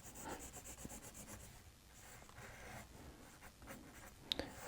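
Pen or marker strokes drawing a tape diagram for a fourth-grade fraction lesson, with steady close scratchy rubbing across a surface in short strokes, quiet and without talk.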